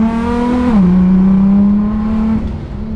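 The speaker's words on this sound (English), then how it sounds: "I just love that sound of blow-off valve" Modified car engine with a blow-off valve, a close, loud droning tone that drops in pitch as the throttle lifts, then holds steady before fading slightly, no voices.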